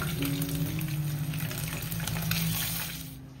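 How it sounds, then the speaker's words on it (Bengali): Fish frying in a pan with ginger, cumin and chili paste nearby, a steady close hiss and sizzle that runs without a break and fades slightly at the end. "মাছ ভাজা চলছে"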